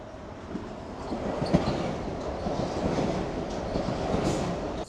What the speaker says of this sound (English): Yeah, there comes the Metro North right here ahead.